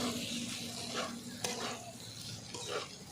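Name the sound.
stir-frying small shrimp with bitter gourd and potato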